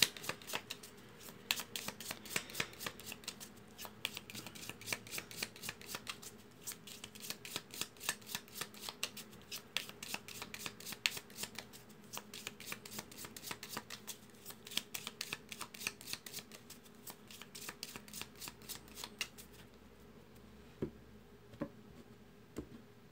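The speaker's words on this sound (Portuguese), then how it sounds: "Estou embaralhando aqui para a gente começar mais esse tema." Tarot cards shuffled steadily for about twenty seconds, a dense run of quick papery riffles and flicks close by with no talk, ending in a few scattered taps.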